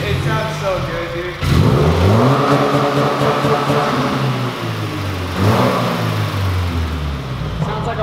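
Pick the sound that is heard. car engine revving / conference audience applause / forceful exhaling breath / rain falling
car engine revving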